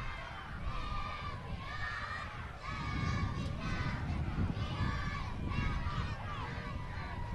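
A group of youngsters cheers and shouts at an outdoor parade, a busy mix of high excited voices and crowd noise that swells midway, with honks and chatter mixed in.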